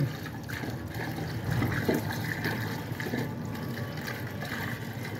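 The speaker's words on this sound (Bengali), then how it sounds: "পানি ডালতেছি।" Water is poured into a 500 kVA Perkins generator during servicing, making a close, continuous gurgling trickle that swells slightly midway and then settles into a steady flow.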